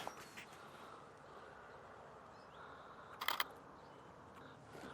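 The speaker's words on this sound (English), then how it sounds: "I just want to do a quick photo with the flash." A single-lens reflex camera's shutter fires once for a flash photo of a bee outdoors on the California coast, a short crisp double click heard near the microphone against faint background hiss.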